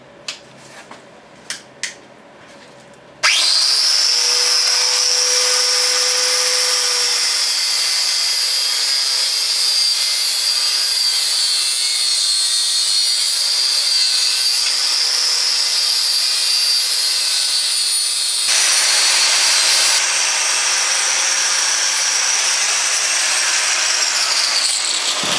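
An angle grinder fitted with a flap disc grinds a metal bash plate for a Triumph motorcycle, starting after a few light knocks and holding a loud, steady high whine for over twenty seconds with a slight change in pitch near the end.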